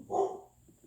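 A pet dog barks once indoors, a single fairly close bark that fades into quiet room tone.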